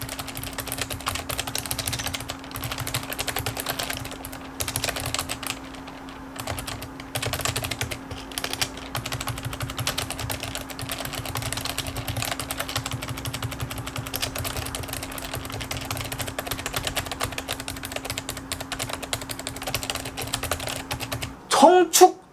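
Fast, continuous typing on a Razer Ornata V2 hybrid mecha-membrane keyboard, dense clacky keystrokes close up with a steady hum underneath, ending in a couple of louder key hits.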